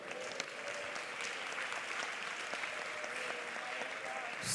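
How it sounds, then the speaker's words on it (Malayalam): A church congregation at an IPC prayer centre service claps in praise: a fairly soft, sustained patter of many hands with scattered sharper claps and faint voices mixed underneath. "കൈയടിച്ച് സ്തോത്രം പറഞ്ഞാട്ടെ"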